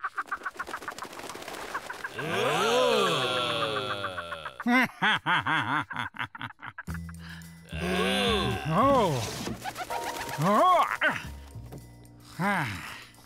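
Close cartoon pigeon coos, soft warbling calls that rise and fall in repeated phrases, with short pauses between bursts.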